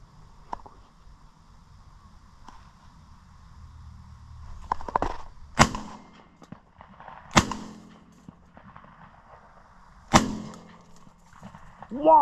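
Three sharp, loud blasts from a Browning A5 semi-automatic shotgun while crow hunting, spaced a couple of seconds apart, each with a brief echoing tail, over a quiet outdoor background with faint rustling.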